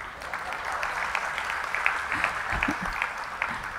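A crowd at a kavi sammelan poetry recital in Mumbai applauds in a steady wash of clapping, with a few louder nearby claps standing out midway.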